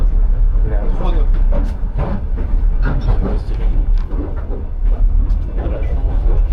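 Inside a Russian passenger train carriage, a steady low rumble of the moving car runs continuously beneath someone talking close by.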